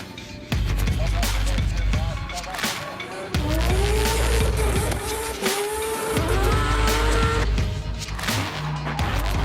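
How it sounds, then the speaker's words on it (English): A drift car with a 3-rotor engine comes into a roundabout, screaming engine and long squealing tyre slides sweeping up and down in pitch as it drifts around, loud and close throughout. "come flying into this roundabout as fast as we can and drift around it and straight back out the other side"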